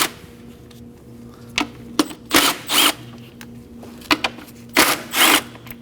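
Socket wrench backing out three 10mm bolts on a 2011-2016 Kia Optima engine: short ratcheting bursts and clicks separated by pauses, close and fairly loud, with no talking.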